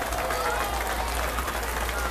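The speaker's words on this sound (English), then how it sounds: "Another round of applause, ladies and gentlemen." A dense wash of clapping rises from a crowd lining a street parade at an Irish Days celebration, honouring the passing Girl Scouts and Brownies, steady and fairly distant with a voice faintly over it.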